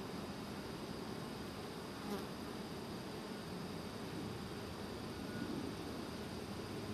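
Dense, steady buzzing of honeybees inside an open hive during a colony inspection, close and continuous for the whole stretch with no talking.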